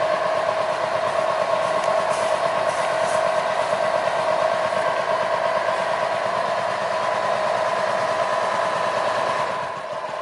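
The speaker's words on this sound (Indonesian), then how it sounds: "sehingga lokomotif bisa melanjutkan perjalanan" A sugar cane railway locomotive at the PG Kedawung sugar mill runs along its track during a test run, giving a steady, close engine drone with a rumbling mechanical hum that holds unbroken for the whole stretch before easing slightly at the end.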